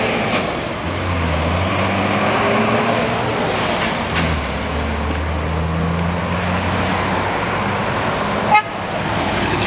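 A UPS delivery truck passes along a street with a low, steady engine rumble and a brief sharp click or toot near the end.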